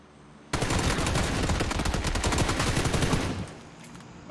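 A rapid burst of automatic gunfire rings out in a shooter video game. It cuts in abruptly, hammers on loudly for about three seconds and then stops, with a quieter background before and after.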